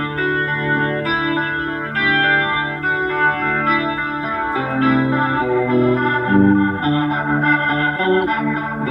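Electric guitar played through an Electro-Harmonix Lester K rotary speaker pedal with no compression, a swirling, chorus-like warble over sustained chords and melodic notes, loud and close, with no voices.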